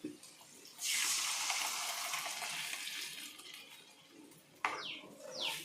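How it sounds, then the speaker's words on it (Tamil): A liquid mixture is poured into a pan of sautéed onions for pirandai kuzhambu, a loud rush of hissing sizzle bursting up and then easing off, with a second flare near the end. "இப்போ வந்து நம்ம கரைச்சி வச்சதை வந்து ஊற்றுறோம்."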